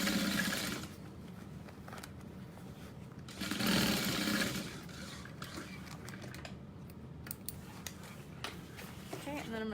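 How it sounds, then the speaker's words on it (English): Home sewing machine stitching the seam of a tote bag pocket beside the basting line, a steady mechanical whir with a louder surge partway through, while a person talks over it. "we're gonna sew that together"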